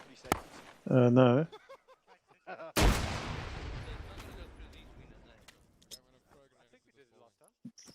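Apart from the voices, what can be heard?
grenade thrown and exploding in a shooter video game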